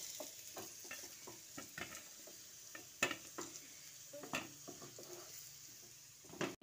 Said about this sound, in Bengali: এবার আলুটা একটু লালচে করে ভেজে নিতে হবে।